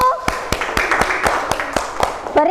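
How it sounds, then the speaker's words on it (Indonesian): A classroom group claps for the first team of students, a near, steady run of sharp, evenly spaced claps with voices talking in Indonesian underneath. "Tepuk tangan untuk kelompok 1."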